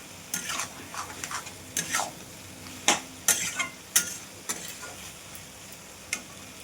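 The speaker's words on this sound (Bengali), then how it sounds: "এবার ভালো করে কষে নেব।" Soybean chunks are stirred and fried in a pan, a faint sizzle under a run of quick scraping strokes and occasional sharper knocks of a spatula against the pan, close by.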